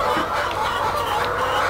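Chickens cluck steadily inside an Indonesian egg farm coop, a dense, continuous flock chatter with occasional louder individual calls, fairly close and loud with no talk.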